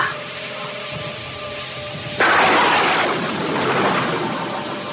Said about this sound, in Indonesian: Kakang Adijaya, tiba-tiba ada suara petir.